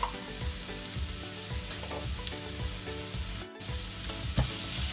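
Ginger-garlic paste and slit green chillies sizzle in a pan with onions for a Kerala-style egg roast: a steady, dense frying hiss with soft scraping stirs throughout, close and moderately loud, no voices.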